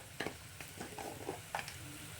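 Spice paste (masala) for a vegetarian soybean mutha frying quietly in a pan, a soft, steady sizzle with a few faint stirring scrapes.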